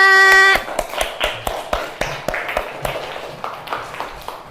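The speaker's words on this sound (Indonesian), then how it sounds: "Tepuk tangan untuk kita semua." Classroom applause as a group of students claps together, opening with a brief tone and then settling into a steady run of near, rhythmic hand claps that taper slightly toward the end.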